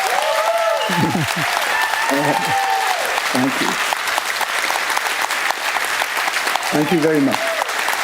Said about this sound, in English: A warm applause for you.